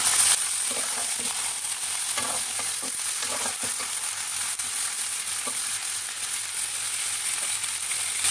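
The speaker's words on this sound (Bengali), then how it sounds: "মাংসগুলো আমি পেঁয়াজের সঙ্গে লাল লাল করে ভেজে নেব" Mutton pieces fry with onions in oil, giving a steady close sizzle broken by the scrape and clatter of stirring.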